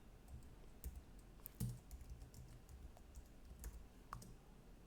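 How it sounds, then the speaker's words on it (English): Quiet typing of a command on a computer keyboard in a Linux terminal: a run of soft, irregular key clicks with a few sharper taps, heard alone and close. "In the terminal, let's type in vi / script sh"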